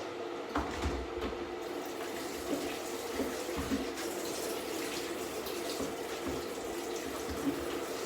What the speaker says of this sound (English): There's this bowl here. I fill this up every evening when I get home.